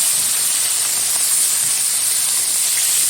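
Small live bata fish fry in hot oil, giving a loud, dense, unbroken hiss and sizzle that stays steady and close throughout, with no voices.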